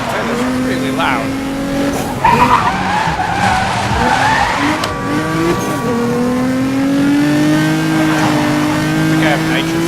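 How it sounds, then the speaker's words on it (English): Loud roaring car engine with squealing, skidding tires and shifting revs in the video game Need for Speed Most Wanted, continuous and close, with a voice talking underneath. "I hope you can hear me over that car, because that is really loud."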